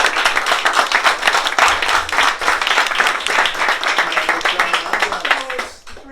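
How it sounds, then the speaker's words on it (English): A fundraiser crowd gives rousing applause to welcome state senate candidate Edith Tucker, with dense, loud, close clapping that stays steady and then tapers off at the end. "Please welcome with a rousing round of applause"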